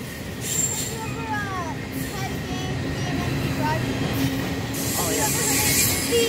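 A Union Pacific double-stack container train rolls past at Rochelle railroad park, a continuous rumble of wagons with squealing wheels and faint tonal screeches riding on top. Brief voices come through under the passing cars.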